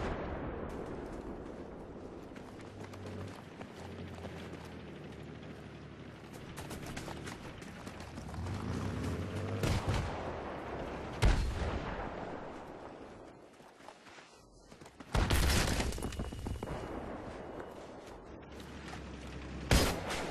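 Gunfire and explosions roar through a video game battle: a continuous, dense barrage of shots and booms with sudden loud blasts standing out from the steady din, and no talking.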